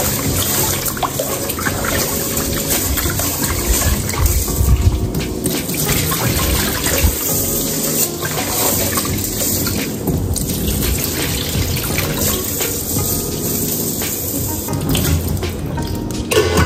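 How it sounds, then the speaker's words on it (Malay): Rice is washed under a running kitchen tap for cooking plain rice, with loud close water gushing continuously and sloshing and trickling throughout, and no talking. "mula-mula cuci beras dan masak nasi dahulu"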